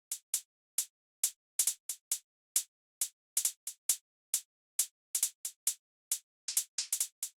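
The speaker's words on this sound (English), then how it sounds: "So now we have the closed hi-hat" Closed hi-hat from a UK garage beat programmed in FL Studio, playing alone as crisp, short ticks in a syncopated, swinging pattern with some doubled hits, dry and fairly quiet.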